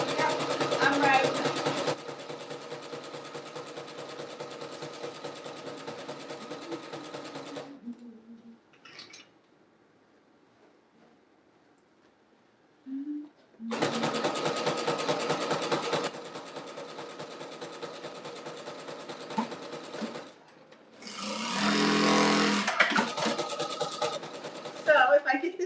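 A sewing machine runs in long steady stretches as quilt strips for a jelly roll rug are stitched together, stopping for a quiet pause in the middle and then resuming.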